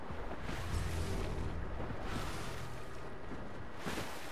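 A waterfall in the video game Fortnite pours with a steady, full rushing roar of falling water. It holds even and continuous throughout, with no voices over it.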